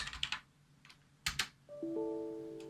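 Keys clatter on a computer keyboard in a few short bursts of typing, with a brief pause between them, close up and alone, then a steady electronic tone rises at the end.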